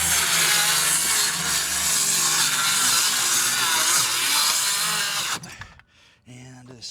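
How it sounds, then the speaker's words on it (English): A saw making cross cuts through wooden deck boards, a loud continuous grinding buzz lasting about five seconds, then cutting off into quieter handling noise and someone speaking briefly. "I'm just gonna do some cross cuts, and then I'll pull the boards up a little easier"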